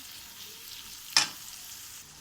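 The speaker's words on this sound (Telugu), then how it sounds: "ఇప్పుడు మనం ఈ మసాలా అన్నీ వేసేసుకుందాం" Masala spices frying in a pan for paneer curry: a soft background sizzle with one sudden, loud hiss as something hits the hot oil, then settling back to a quiet fry.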